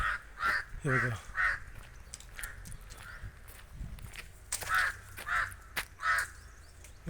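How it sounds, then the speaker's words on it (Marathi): Crows cawing in a quiet garden, several loud, repeated caws in bursts near and mid-distance, with footsteps and someone speaking briefly. "पक्ष्यांचा किलबिलट"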